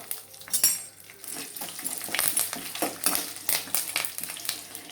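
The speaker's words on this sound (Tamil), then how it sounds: "கருவேப்பிலை, வறுத்து வச்சுருக்கிற வேர்க்கடலையும் இந்த நம்ம வறுத்து வச்சுருக்கிற இந்த கடலை வந்து சேர்த்துக்கிடுவோம்" Curry leaves and roasted peanuts frying in hot oil while being stirred, with a steady sizzle, scraping of a spoon against the pan and light metallic clinks, close and moderately loud.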